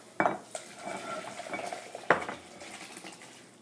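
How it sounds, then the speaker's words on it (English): Vegetable miso soup tipped from a pot into a bowl, heard as a sharp clatter of dish and pot at the start, a softer knock, then a second distinct clank midway, with faint splashing and handling in between. "what I'm going to do is I'm just going to dump the soup"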